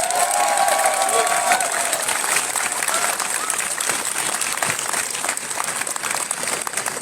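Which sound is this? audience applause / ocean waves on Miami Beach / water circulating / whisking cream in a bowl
audience applause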